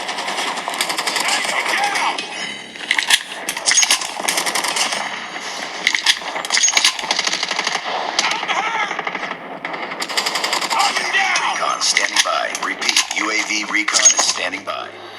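REDMAGIC 9S Pro smartphone playing audio through its stereo speakers: thin, bright playback with rapid clattering, gunfire-like bursts and busy rhythmic hits, steady and fairly loud throughout with little low end.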